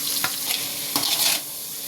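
Onions frying with salt in a pan for tomato thokku, a steady close sizzle broken by a few brief scraping stirs of the spoon, with no talking.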